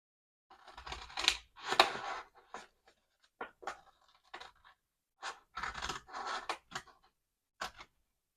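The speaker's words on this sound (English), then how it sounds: "literally where the crease already was, we're just going to cut that to the center." Scissors cut through a paper file folder along its crease, giving short crisp snipping and scraping bursts separated by quiet pauses.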